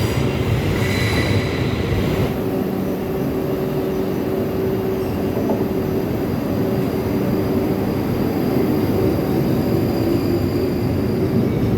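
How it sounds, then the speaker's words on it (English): A refurbished South Western Railway Class 458 electric train pulls out of a station, its steady loud rumble and motor whine continuing throughout, with a brief high squeal early on and no voices. "as the train pulls out behind me"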